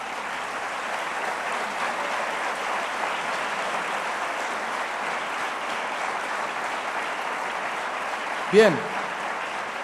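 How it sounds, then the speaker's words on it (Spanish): Church congregation clapping for God during a Spanish-language sermon, a steady broad patter of many hands under and alongside a voice, ending with a brief louder thump near the end. "Denle un aplauso a nuestro Rey"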